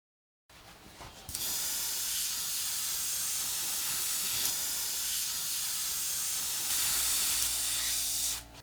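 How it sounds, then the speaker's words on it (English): An airbrush spraying water out of its cup during cleaning gives a loud, steady hiss that starts abruptly and holds for several seconds, then cuts off. It is close and continuous, with no talking. "I fill the cup with water 3 times and spray it out"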